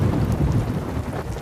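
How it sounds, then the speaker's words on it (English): Cartoon thunderstorm with a deep rolling rumble of thunder over steady heavy rain, loud and continuous, with no voices. "Oh no! It's a thunderstorm!"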